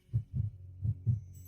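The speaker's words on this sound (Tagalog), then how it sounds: "Ang tibok ng puso mo." A heartbeat sound effect in a romantic drama, two muffled low double thumps in a slow steady rhythm, heard alone and close.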